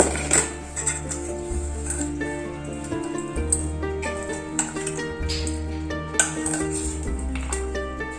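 Okra fry is stirred in a pan, with metallic scraping and clinking of a utensil against the cookware in a steady, close, irregular rhythm and no talking.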